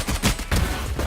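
Rapid gunfire bursts from the video game Valorant during a Game Changers APAC esports match, several sharp shots packed into about a second, moderately loud and alone.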